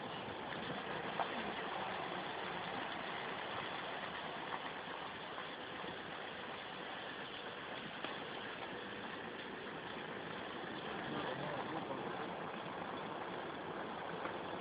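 A bus engine idles steadily for the whole stretch, a faint, even rumble with a light mechanical rattle and no voices over it.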